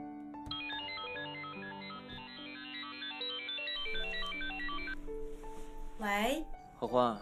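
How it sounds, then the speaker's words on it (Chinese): A phone rings during an outgoing call, a steady electronic ringtone melody of repeated tones lasting several seconds before fading under a voice that starts speaking near the end. "我得赶紧打电话告诉东上"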